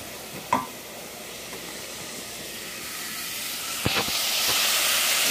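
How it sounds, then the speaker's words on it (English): Carrots, onions and bell peppers sizzle in sausage fat in a pan, a steady hiss that grows louder toward the end, broken by a couple of sharp clinks from stirring. "Cooking down inside of that sausage fat."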